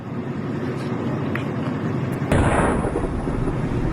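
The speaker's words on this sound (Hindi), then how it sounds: "आखिर कैसे ये धमाके हो रहे हैं" A heavy, sustained rumble with a sudden loud burst partway through, like a distant explosion rolling out over continuous background noise, from strikes in Syria.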